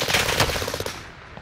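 Type 100 submachine gun in Call of Duty: Modern Warfare firing a short rapid burst of about a dozen evenly spaced shots, loud and close, then cutting off.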